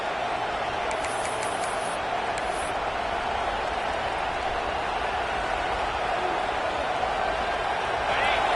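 A roaring stadium crowd at an American football game on first and goal, a dense, steady wall of cheering and noise that holds loud and unbroken throughout.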